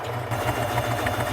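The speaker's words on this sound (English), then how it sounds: "So if I'm doing a zigzag, it's going to go zigzag on the inside and then zigzag right at the edge." Sewing machine stitching a zigzag appliqué edge, giving a fast, steady mechanical whirring hum throughout the short moment, fairly close and alone.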